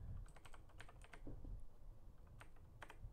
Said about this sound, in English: Yep, QWERTY keyboard.